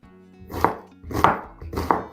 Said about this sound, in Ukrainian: Тепер підготую цибульку. Наріжу її кубиком.